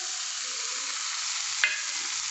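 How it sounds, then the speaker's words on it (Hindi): Tomatoes frying with browned onions in a pan, a steady hiss of sizzling oil with a single sharp clink of a utensil partway through, no talking. "अब मैं इसमें टमाटर डालूंगी"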